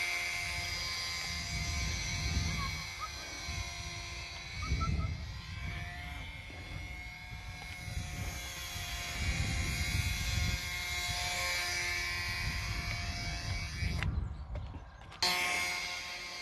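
An FT Mini Scout RC foam plane's electric motor runs at half throttle outdoors in wind, giving a steady buzzing whine that rises and falls in pitch, with wind rumble underneath and a brief cut near the end.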